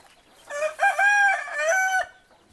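A local free-range chicken crows once, loud and close, over about a second and a half, with faint clucking just before it.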